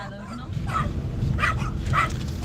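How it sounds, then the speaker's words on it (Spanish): Several dogs barking in bursts at a rural oak-pasture enclosure where cattle are watched, the barks repeating at a moderate distance over steady outdoor background noise, with no talk. "están aquí los perros"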